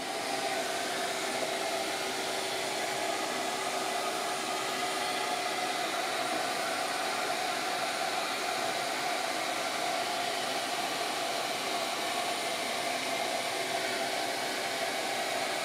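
Shaper Origin handheld router with its spindle cutting through foam, a steady, loud, airy whine with a faint tonal hum running unbroken throughout, no voices.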